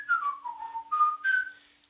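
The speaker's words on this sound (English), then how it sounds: "The most common whistle probably in the world is the pursed lip whistle, this one." A pursed-lip whistle sounds alone at close range, a bright, clear melodic tone gliding down and then stepping back up across several connected phrases, fading out at the end.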